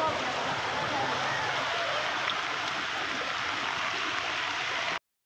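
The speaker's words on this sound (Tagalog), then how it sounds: "ayan po, malakas na po ang tubig." Strong, steady rush of flowing water, a continuous broadband roar close by with no break until it cuts off at the end.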